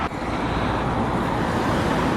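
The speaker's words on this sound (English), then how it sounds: "I don't think you really want to be hearing cars zooming past me." Cars zoom past on a road close by, making a continuous loud roar of traffic and tyre noise with wind buffeting, and no speech over it.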